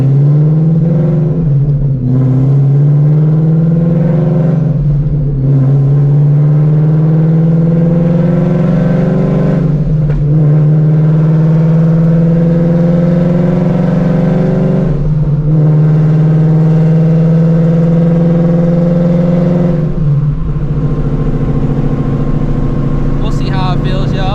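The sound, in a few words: 900HP Shelby GT350 engine revving during hard pulls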